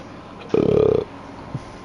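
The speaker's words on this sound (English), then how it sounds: "Burping on my microphone because I'm an adult." A single burp made close into a microphone during a racing-league stream, lasting about half a second with a rough, buzzing texture, followed by a faint short grunt.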